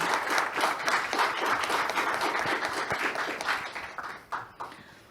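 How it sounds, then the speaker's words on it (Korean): Seminar attendees applaud at the close of a gas-safety lecture session, a full roomful of clapping that holds steady, then thins out and fades to a few last scattered claps. "다시 한번 박수 한번"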